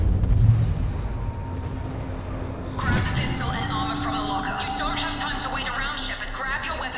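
Explosions rock a facility under attack in Mass Effect Legendary Edition: a low rumbling boom, then a loud blast erupts with crashing debris and a sustained roar. Voices talk over the explosions.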